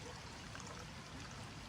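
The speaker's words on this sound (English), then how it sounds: "just filling up the water bottle" Water streams steadily from an ITEHIL filtration system into a water bottle at a fixed camp, a faint, continuous pouring trickle with no voices.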